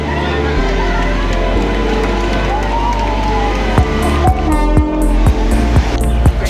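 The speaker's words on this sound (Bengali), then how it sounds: "অবশেষে সকাল সাড়ে সাতটার দিকে ট্রেন আসলো" A train pulls into a station platform on the way toward Darjeeling with a continuous rumble, and a crowd is heard around it. Sharp clanks from the railcars come near the end.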